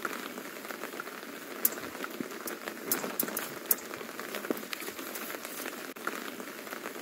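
Manganese heptoxide reacting violently as liquid is poured onto it, giving a continuous crackling, sizzling fizz scattered with sharp pops and sputters at moderate level, with no voices.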